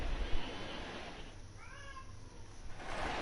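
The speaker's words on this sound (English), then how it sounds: "perfectly timed that meow" A single faint cat meow rises briefly in the middle of a quiet stretch of a baseball broadcast, with low background crowd and room noise around it.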